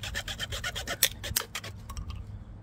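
The saw blade of a Takumitak Escort TKF213SW knife rasps back and forth through wood in quick, regular strokes, close up, then slows to a few final scrapes.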